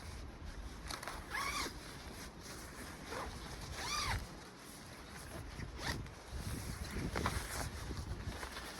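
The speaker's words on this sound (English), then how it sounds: "We're going to just unzip this in right here." The zipper on a Swedish-made Fjelldurken Original Jervin bag tarp is pulled open in several quick rasping strokes close by, with light wind and rustling around them.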